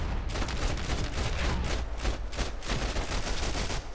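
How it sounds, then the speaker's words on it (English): Rapid gunfire in the shooter Max Payne 3, a dense burst of overlapping shots with sharp cracks and low booms, loud and sustained throughout with brief irregular gaps. "Max is clearly getting shot in the groin"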